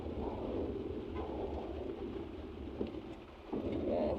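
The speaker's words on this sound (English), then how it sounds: "And the rain is coming as well." Steady rain falls near a gas station while low thunder rumbles through it, a constant wash of sound with a brief thump and swell near the end, no voices.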